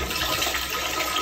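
Homemade pasta and water pouring into a toilet bowl, a continuous, close, rushing splash of water with no talk.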